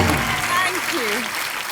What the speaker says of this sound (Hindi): जोरदार तालियां मनीषा जी के लिए एक बार